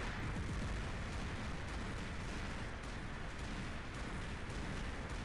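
Continuous rocket weapon fire and explosions against a bot in a Griffin battle, a dense, unbroken roar of overlapping booms and shots at steady loudness with no voices.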